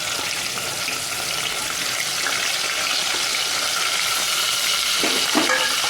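Tomatoes and peas tipped into a hot frying pan and stirred, a steady close sizzle with wet scraping and a few sharper clatters near the end, no talk.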